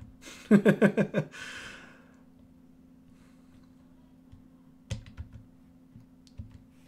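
Quick burst of computer keyboard typing, about six close, loud keystrokes in rapid rhythm, followed by quieter scattered clicks and taps against a faint steady hum.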